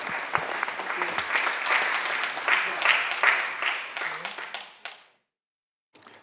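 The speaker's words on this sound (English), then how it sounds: "let's give Dr. Choi a round of applause for his birthday and this special resolution" A crowd applauds in a Senate chamber during a birthday tribute and resolution, giving dense, steady clapping for about five seconds before it cuts to silence.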